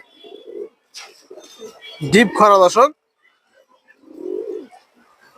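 A Khoragola pigeon gives one close, clear coo lasting under a second, while someone talks softly before and after it.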